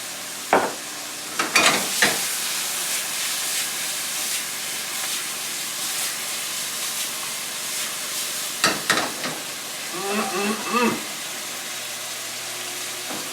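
Stir-fry sauce sizzling in a pan with zucchini and tomatoes, a continuous hiss punctuated by a few sharp clanks and scrapes of stirring near the start and middle, with no talking.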